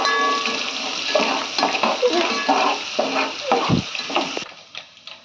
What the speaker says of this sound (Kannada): ಈಗ ಒಂದು ಸತಿ ಚಂದ ಮಿಕ್ಸ್ ಮಾಡ್ಕೊತೀವಿ.